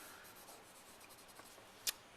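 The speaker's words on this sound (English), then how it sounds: "try to draw your lines all at once, the ones that are going in the same direction" Pencil drawing quick parallel lines on paper, a soft continuous scratchy rub made of repeated strokes, ending with a sharp tap as the lead lifts or strikes the page, close and quiet.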